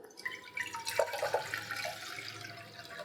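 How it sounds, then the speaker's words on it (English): About 600 ml of fresh water pours into a cooking pot as a Balinese fish stock is started, a close, splashing trickle that rises quickly and runs on steadily, with no voices. "I'm going to add 600 ml of fresh water"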